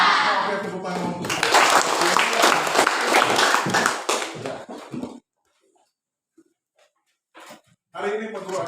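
Students in a classroom clap together in a loud, dense burst lasting about four seconds that fades out, followed by near silence and then a voice speaking.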